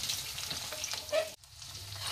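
Oil sizzles and crackles steadily in a pan as dal is dry-roasted, a few stirring scrapes on top, before the sound cuts off abruptly.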